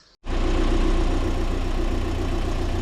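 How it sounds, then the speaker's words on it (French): A car engine, being warmed up for a head gasket check, cranks and fires after a brief silence, then settles into a loud, steady close-up idle. "Voilà, on a démarré le véhicule."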